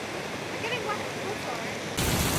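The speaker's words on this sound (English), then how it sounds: "That is the waterfall." Waterfall at Waimea Valley in the rain, a steady rushing hiss that swells abruptly louder near the end, with a voice faintly present.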